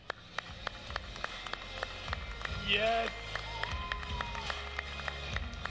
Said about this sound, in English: please give a cheer for one of the most formidable RTS players there is